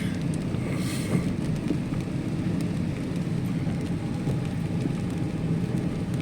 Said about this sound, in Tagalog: kahit malakas ang ulan, may bagyo